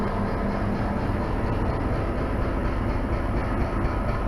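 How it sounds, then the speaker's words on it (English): Model train locomotive running on a holiday train show layout, a steady continuous rumble with no breaks and no voices. "And there's the All-American locomotive thing there."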